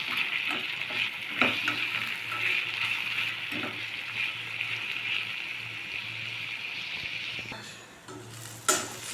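Chana dal and coconut curry fries in a pan with a steady bright sizzle, while a spoon stirs through it in several scraping strokes and knocks against the pan near the end.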